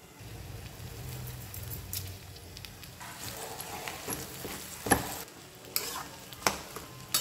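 Potatoes and peas fry in masala in a pan, a low sizzle under repeated scraping stirs and sharp clicks of a spoon against the pan, growing busier toward the end.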